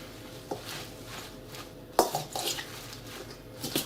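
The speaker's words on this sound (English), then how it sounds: "let me give this a nice mix, and then we're going to taste it" A tropical chicken salad with lettuce is tossed in a very large bowl, giving soft, scattered knocks and clinks of utensils against the bowl, with sharper hits near the start and middle over a quiet background.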